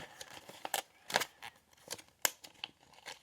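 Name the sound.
paper being folded for an origami sled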